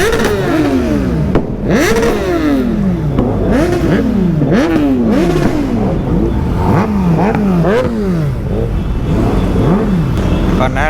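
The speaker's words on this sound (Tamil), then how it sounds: "R15 அதிகமாக கேட்குது" A Yamaha R15 motorcycle revs again and again at a college bike event, with repeated rising and falling engine sweeps, loud and close, and it continues steadily through the whole stretch.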